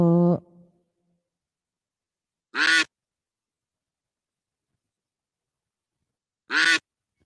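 Three loud, isolated duck quacks at a duck race, spaced several seconds apart with silence between them, close and clear, with no talking.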